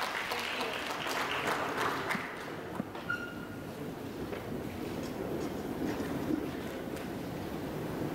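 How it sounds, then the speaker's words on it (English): Applause from a symposium audience, a broad continuous patter that starts stronger and gradually thins, heard at a low level with faint background noise. "So let's all give a warm round of applause for Dr."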